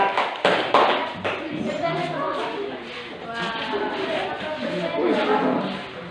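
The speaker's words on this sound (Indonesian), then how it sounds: "tepuk tangan untuk kelompok Pascal" A classroom group claps for classmates presenting as group Pascal, scattered hand claps and taps rising over a murmur of voices and chatter throughout.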